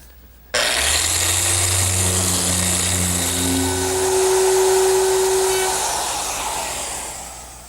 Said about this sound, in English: I want to sand the face frame